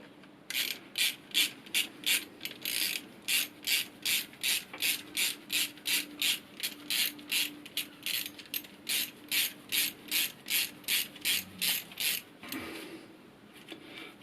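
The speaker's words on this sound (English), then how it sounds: "ratchet and I'm going to screw this back up" A ratchet tightening brake parts on a Honda VFR 750, about two dozen evenly spaced rasping clicks in a steady back-and-forth rhythm, close and fairly quiet, ending with a brief clunk.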